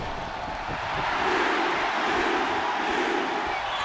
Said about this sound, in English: This crowd ever behind main event Jey Uso